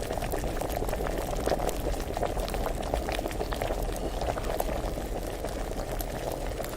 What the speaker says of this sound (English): I figured it would have stopped boiling.